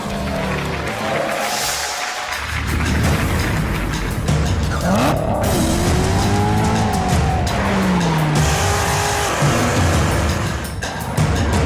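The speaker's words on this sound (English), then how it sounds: "Introducing to the world the 2019 Corvette ZR1." A 2019 Corvette ZR1 sports car revs and drives hard with loud tire squeals and skidding, engine roaring up close throughout with no talk.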